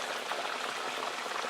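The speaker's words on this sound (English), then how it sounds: "your breadfruits were soaking in water, so that might do a little popping action" Soaked breadfruit frying in hot oil in a pan gives a steady, dense sizzle with fine crackling pops, moderately loud and continuous.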